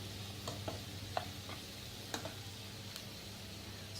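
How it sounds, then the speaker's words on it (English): Vegetables being stirred and mixed in a pan over low sizzling heat: soft scattered scrapes and light utensil taps above a faint continuous frying hiss, quiet and close, with no talking. "We will now mix everything well together."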